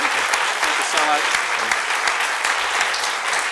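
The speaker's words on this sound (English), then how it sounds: "please, another big round of applause for one of the hardest working people in New Orleans, Derwyn Bunton." A studio audience gives a steady round of applause at the end of a talk-show interview, continuous and fairly loud throughout, with a voice speaking briefly over the clapping.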